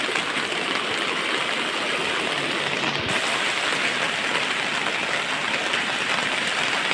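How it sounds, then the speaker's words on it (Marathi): Heavy early-season monsoon rain falls in Konkan while floodwater flows, making a constant loud hiss and rush with one brief dip midway and no voices. "कोकणात मोठ्या प्रमाणात पाऊस चालू झाला आहे"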